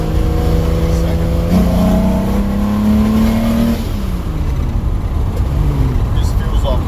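A 265 HEMI engine revs hard on a dyno, a loud rising howl that climbs steadily for several seconds, drops off, then settles into a rough, throbbing idle close to the microphone.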